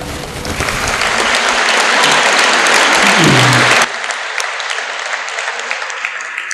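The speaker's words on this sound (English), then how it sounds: "Applause." Banquet crowd at a Hall of Fame dinner breaks into loud, sustained applause that fills the room for several seconds, then drops off sharply to a quieter hall with lingering scattered claps.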